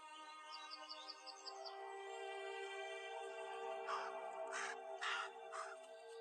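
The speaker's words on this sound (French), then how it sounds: "Le corbeau appelle." A crow calls in several loud, harsh caws, clustered toward the end over a steady background hum, with faint bird chirps earlier.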